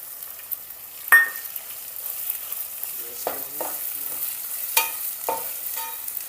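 Ginger and onion frying in oil in a pan for vegetable upma, a soft sizzle under a handful of sharp scraping stirs spaced a second or two apart, with no speech.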